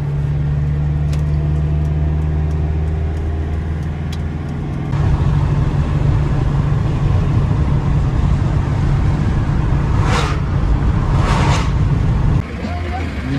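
Car driving on the road in the Moscow region heading back to Podolsk, a steady loud engine drone and road rumble that grows heavier midway, with people talking inside.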